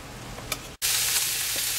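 Meat browns in a frying pan with a close, steady sizzle that cuts out for an instant, then comes back brighter and louder, hissing on without a break.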